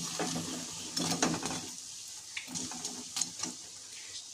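Eggplant pakora and other snacks fry in hot oil on a rainy day, a steady sizzle broken by stirring scrapes and light clinks of a utensil against the pan.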